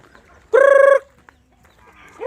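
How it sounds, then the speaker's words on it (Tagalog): Free-range native chickens on a farm in northern Cebu: one close, loud, drawn-out cluck rings out for about half a second, followed by quiet farmyard background and a fainter call at the end. "ito yung mga native chicken natin"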